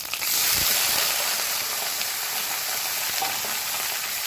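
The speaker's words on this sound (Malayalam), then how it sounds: "നമ്മുടെ വാഴപ്പിണ്ടി അരിഞ്ഞു വെച്ചത് ഇതിലേക്ക് ഇട്ട് കൊടുക്കാം" Chopped banana stem frying in hot oil with a dense, steady sizzle and a few soft stirring scrapes, no voices.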